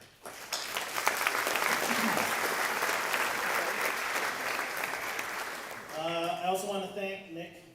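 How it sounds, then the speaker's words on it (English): Applause for parents at a varsity all-sports awards night, a sustained roomful of clapping for several seconds before fading as a voice begins speaking over it. "you guys definitely deserve a round of applause"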